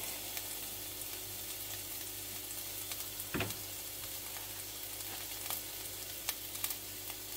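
Frozen green peas and carrots sizzle and crackle steadily in a hot pan for vegetable fried rice, with a brief clatter partway through. No voices.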